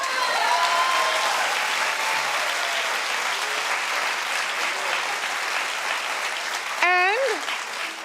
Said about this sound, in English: Clap if you're with me.